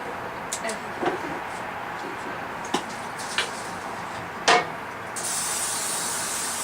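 A brief hissing burst of cooking spray onto a pan near the end, after a few soft clicks and knocks from handling; quiet kitchen background without talk.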